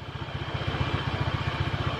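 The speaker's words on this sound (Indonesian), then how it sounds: "suara mesin halus, stabil, nggak ngeden ya, nggak brebet" A Honda Beat carburetted scooter engine idling smoothly after a tune-up, a steady rapid low putter with even, regular firing pulses, close and moderately quiet.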